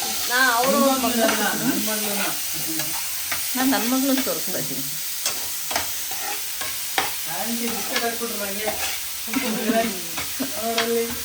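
Food sizzles and crackles in a frying pan with steady stirring, running continuously beneath a voice that talks over it nearly the whole time.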